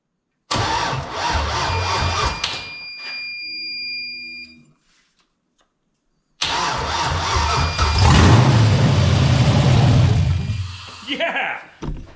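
An LS V8 swapped into a Ford Crown Victoria cranks and fires, then cuts out, then restarts and settles into a loud, rough idle with revving, while a high electronic buzz sounds intermittently and voices are heard.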